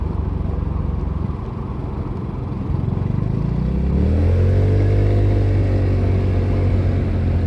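A Vespa GTS 300 HPE Supersport scooter idles nearby, then revs up with a loud, raspy exhaust that swells into a rising drone and holds steady.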